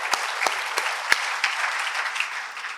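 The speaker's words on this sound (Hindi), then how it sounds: "सभी साथियों के लिए जोरदार तालियां बजाएं" An audience at a Teacher's Day celebration claps for the teachers, a steady, fairly loud burst of applause with a few sharp, distinct hand claps standing out near the start.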